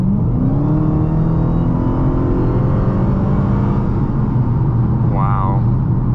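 A Dodge Challenger Hellcat set to 500 horsepower mode accelerates hard, its loud, close engine drone climbing steadily in pitch over about six seconds.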